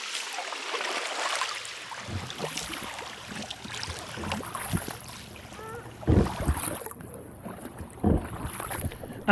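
Kayak paddle strokes dip and splash through the calm, dark water of a Scottish loch, a few distinct splashes coming close and in rhythm over a steady wind hiss on the microphone.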